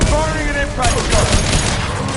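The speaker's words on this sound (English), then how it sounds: "Firing an impact gun!" Impact gun firing in the video game Mass Effect 2, a dense burst of heavy, booming shots over battle noise, close and loud, with brief voices in the mix.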